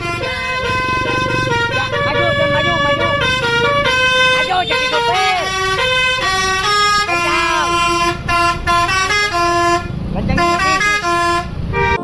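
A Pandawa 87 bus sounds its musical basuri horn, a loud close melodic sequence of tonal toots playing a tune that runs for several seconds with brief pauses.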